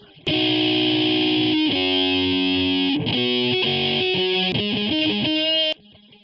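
A distorted, sustained synth or guitar tone with shifting notes, wide and heavily processed through a stereo delay with the left channel phase-flipped, playing steadily for about five seconds before stopping abruptly.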